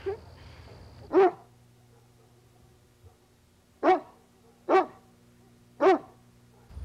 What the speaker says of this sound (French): c'est le chien de garde du voisin.